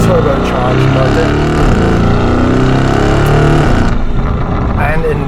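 A Novitec-tuned Lamborghini Urus with a 4-litre twin-turbo V8 and aftermarket exhaust rumbles loudly up close, its deep engine note rising and falling through revs for several seconds before easing near the end.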